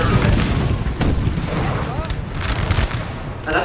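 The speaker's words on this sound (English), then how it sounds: "These guys must have been getting hit by artillery fire" Artillery and musket fire in a Napoleonic battle from Napoleon: Total War, a continuous rumble of booms and crackling volleys, loud and steady throughout with a dense battlefield din.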